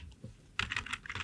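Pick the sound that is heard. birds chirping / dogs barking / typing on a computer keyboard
typing on a computer keyboard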